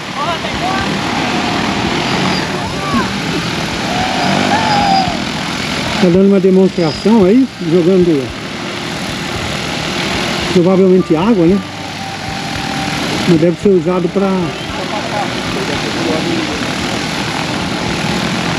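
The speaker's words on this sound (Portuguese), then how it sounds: "Já deu a partida o drone e vai decolar." A DJI T20 agricultural drone lifts off and flies during a demonstration at a drone expo in Sertãozinho, SP. Its rotors give a loud, steady whirring drone throughout, with someone talking over it much of the time.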